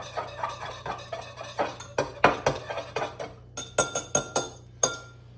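A spoon stirs minced garlic into a pizza dough mixture in a bowl, giving a quick run of sharp clinks and scrapes in an uneven rhythm, close and clear.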